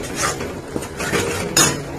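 A spatula clinks and scrapes against a pan while masala is sautéed with sour yogurt for chana masala. The stirring strokes come close and fairly loud in quick irregular bursts, with a soft cooking hiss underneath.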